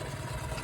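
A miniature 4-inch contractor's type road locomotive, built 2017 and towing scale wagons, runs with a steady low chuffing engine rumble, close and continuous.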